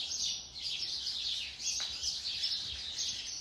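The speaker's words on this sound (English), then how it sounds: "those birds are making me nervous. They're down there having a fist fight." Fledgling birds chirp and squabble nearby in a steady, busy stream of high tweets with no pauses, one brief sharper call cutting through midway.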